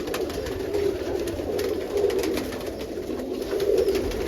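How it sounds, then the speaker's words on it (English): English short-faced tumbler pigeons coo steadily inside a loft, soft low rolling calls overlapping continuously at close range with no talk. "The English short-faced tumblers."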